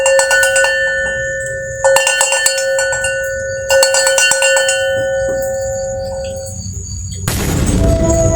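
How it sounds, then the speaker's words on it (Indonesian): Metallic bells clang in three separate struck bursts, each ringing out in a long sustained resonance. Near the end a louder, noisier rushing sound takes over. "Suara lonceng"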